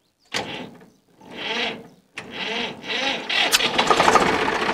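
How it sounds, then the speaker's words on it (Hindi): A Swaraj 735 FE tractor's diesel engine cranks in a few labored bursts with pauses between, then catches and settles into a rough, rattling diesel run. "अभी ट्रैक्टर को स्टार्ट करके आपको हम दिखाते हैं।"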